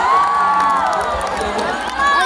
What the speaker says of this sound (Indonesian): Tepuk tangan untuk Elang Nuraga pada kita.